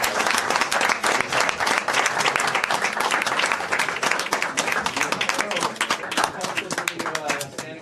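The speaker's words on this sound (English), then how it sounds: "Standing ovation in the back." A standing ovation at a council meeting: sustained, lively clapping from many people fills the room at a steady level for several seconds, with voices talking over it.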